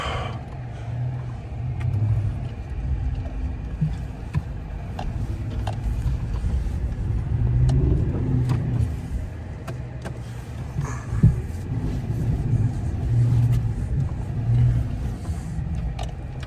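A four-wheel drive car rumbles steadily through deep snow during a blizzard, its engine a low continuous drone with slight swells, moderately close and without talk.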